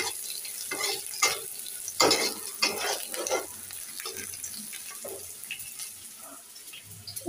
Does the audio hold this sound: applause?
no